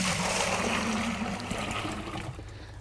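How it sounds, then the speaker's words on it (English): Dung and water slurry pours from a bucket into a biogas funnel on a farm, a close, wet, gushing flow that gradually thins and trails off. "Just scoop some up and pour it in the funnel."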